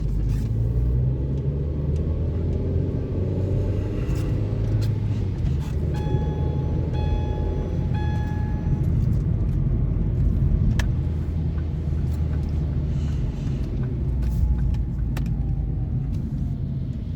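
A 2008 Ford Focus on a test drive gives a steady, loud low rumble of engine and road noise inside the cabin, joined midway by a brief chime of a warning tone.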